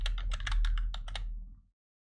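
Computer keyboard keys typed in quick succession while naming a Photoshop layer, about ten close, crisp clicks over a second and a half, then silence.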